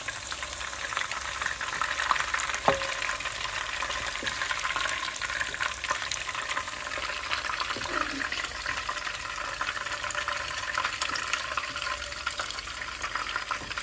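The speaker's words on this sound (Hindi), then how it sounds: "इसी तरह सारे चिकन फ्राई कर लेते हैं" Chicken pieces fry in a pan for black pepper chicken, giving a steady bubbling sizzle with watery crackle, broken by a sharp utensil knock early on and light stirring.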